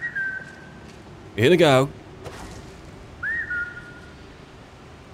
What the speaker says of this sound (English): I'm gonna do some timely whistles to you, yeah?